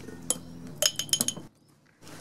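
A spoon clinks sharply against a glass jar while black soap and crystals are added, several bright taps in quick clusters followed by a brief quiet pause.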